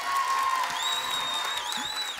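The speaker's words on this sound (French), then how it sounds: "Applaudissez." A studio audience applauds at the start of a television interview show, continuous clapping and light cheering with faint whistles over it.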